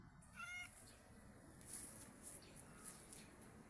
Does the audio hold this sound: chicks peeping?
no